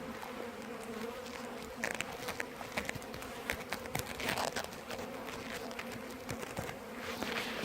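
Honeybees buzz steadily around an open hive during an October check before winter, a dense, continuous drone with individual bees passing close by, with occasional soft handling noises.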